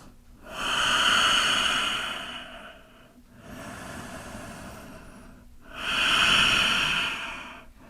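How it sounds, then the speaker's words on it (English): Slow, deep breathing during a yoga forward fold: three long, airy breaths, with loud inhales and exhales at the start and end and a softer one between, close and steady, with no talking. "We're pausing here for 3 more of those long breaths."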